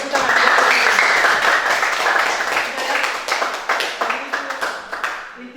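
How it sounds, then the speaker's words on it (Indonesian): An audience at an Indonesian school event claps in a loud, dense burst that thins into scattered, individual claps toward the end. "silakan kasih tepuk tangan"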